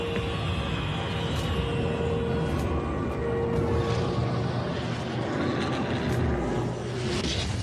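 Propeller-driven Luftwaffe bomber engines drone steadily and continuously, a dense rumbling roar that fills the whole stretch without breaks or voices.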